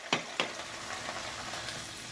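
Food stir-fried with sesame oil in a hot pan, a continuous close sizzle broken by two sharp scraping stirs near the start and softer tossing sounds later.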